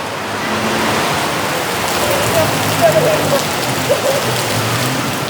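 Steady rain falls at night in Bangkok near Siam Center, a dense, even hiss of drops on surfaces with a few faint distant sounds beneath.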